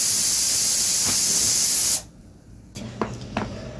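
A pressure cooker with mutton inside vents steam in a loud, steady hiss that stops abruptly after about two seconds, followed by a few soft clicks and knocks nearby.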